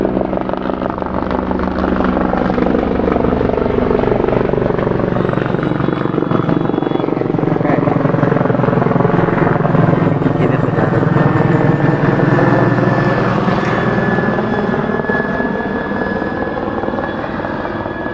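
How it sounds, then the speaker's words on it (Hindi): A helicopter flies low overhead near a college ground where it is about to land, its loud, steady rotor thump and engine roar filling the whole stretch without letup. "हेलीकॉप्टर आ रहा है"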